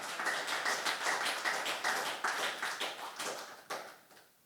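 A congregation at a Korean church service in Cheongju claps in a steady, even rhythm, with sharp, evenly spaced hand claps filling the room for several seconds before fading slightly at the end.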